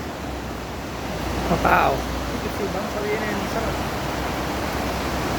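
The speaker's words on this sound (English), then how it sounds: "Sheer volume of water that's dropped in it in this last few days." Floodwater rushes loudly and continuously in a swollen river at Risca, a dense roaring wash close by that fills the scene, with one brief voice exclaiming over it.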